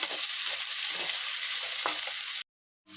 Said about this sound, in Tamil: இந்த மாதிரியே கத்திரிக்காயை நல்ல எண்ணெயிலே வந்து வறுத்துக்க போகிறோம்